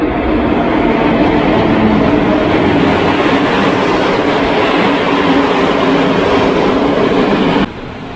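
A train pulling into a station in Hungary, a loud, continuous rumbling roar with wheel noise that stays steady, then drops sharply near the end.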